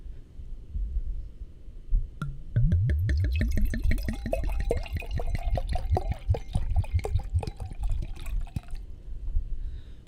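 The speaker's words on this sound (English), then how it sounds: "Pour it up. Here goes the pour." A drink glugs out of a bottle into a glass in one steady pour of rising gurgles lasting several seconds, close and clear, then stops.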